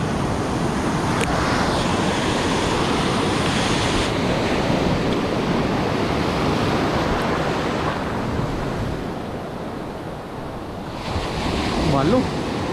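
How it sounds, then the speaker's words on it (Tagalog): Steady roar of ocean waves breaking over a reef, mixed with gusty wind buffeting the microphone, continuous and loud throughout. "Grabe yung alon"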